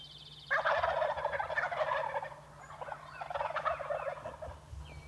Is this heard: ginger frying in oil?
no